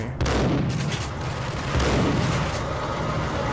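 Gunfire rings out in the Max Payne video game. A loud, sharp shot opens the clip and a second blast follows partway through, each leaving a sustained, booming roar.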